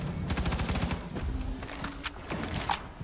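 Assault rifle fire in the shooter Firefall, a rapid burst of close, crisp shots followed by a few separate single cracks, loud over a low game background.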